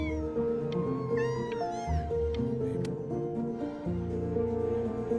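Several drawn-out cat meows and caterwauls from the video game Before Your Eyes sound over a steady low tonal background, fairly clear and up close.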